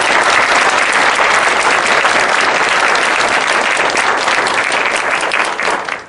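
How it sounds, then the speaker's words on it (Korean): A lecture audience applauds warmly at a court-hosted public humanities talk for citizens. The clapping is dense, steady and loud for about six seconds, then fades quickly at the end. "뜨거운 박수 부탁드립니다"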